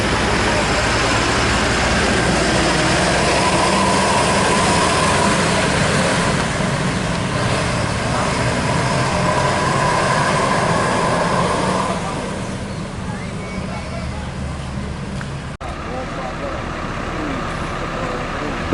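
A Rana Minang intercity bus from Jakarta rolls into Terminal Barai Solok, its diesel engine rumbling loudly and close before it drops back to a quieter idle, with faint voices in the background.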